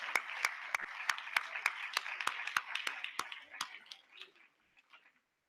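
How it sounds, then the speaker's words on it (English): A small audience at a student recognition day gives a round of applause for teachers and students: a dozen or so crisp, evenly spaced claps, close and distinct, trailing off into a few scattered ones. "So let's give a special round of applause to all of those folks."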